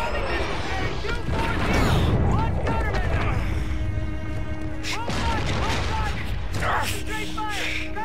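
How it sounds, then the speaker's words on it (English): Warship guns opening fire in the sci-fi shooter Call of Duty: Infinite Warfare, heavy booming salvos and mechanical clatter mixed with radio chatter and shouted voices, loud and sustained with a brief lull midway. "Guns, swivel mount fire one! Open fire!"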